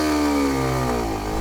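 A motorcycle engine revs hard during a clutch launch, with a steady, buzzing, high-revving tone that sags slightly in pitch as the bike pulls away.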